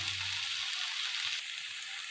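Sojina (drumstick) with sesame sizzles gently in a pan, a soft, continuous frying hiss with a faint low stir near the start, quiet and close with no talking.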